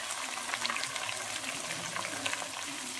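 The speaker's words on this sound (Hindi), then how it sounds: "अब प्याज फ्राई होने ही वाला है, आधा फ्राई हो चुका है।" About 1.5 kg of chopped onions fry in hot oil with red chillies for Bombay-style chicken biryani, giving a steady, close, crackling sizzle with faint stirring throughout.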